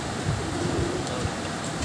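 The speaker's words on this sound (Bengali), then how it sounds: "এগুলো এলাহাবাদি কালপর লাইনের পায়রা, কালপর কালদম" Allahabadi Kalpar pigeons, a Kaldum flying breed, cooing softly in a low, steady murmur against a constant background hiss.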